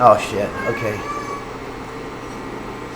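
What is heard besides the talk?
cat meowing in kitchen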